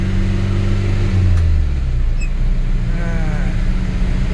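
A Nissan Big M pickup truck engine rumbles and pulls up through the revs, a steady loud drone that climbs as it accelerates.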